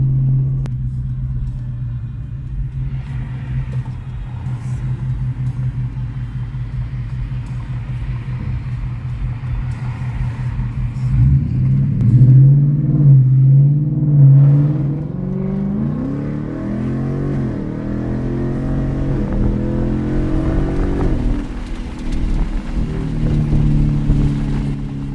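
Deep, loud exhaust rumble from a 2024 Mustang GT S650 fitted with an X-pipe and muffler delete, heard from inside the car, droning steadily and then swelling as it revs through downshifts.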